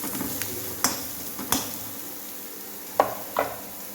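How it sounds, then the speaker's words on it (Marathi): White sesame seeds roast in oil and masala in a pan while misal is being made. A low steady sizzle runs underneath, and a few sharp spoon clicks and crackles stand out. "तर आता लगेच याच्यामध्ये 1 मोठा चमचा गावरान पांढरे तीळ घालून घ्यायचे."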